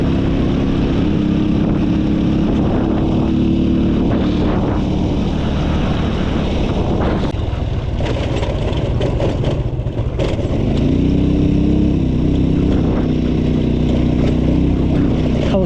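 Motorcycle ridden through the night on a long road trip from Vientiane to Oudomxay, a continuous loud engine drone with heavy wind buffeting across the microphone and no talking.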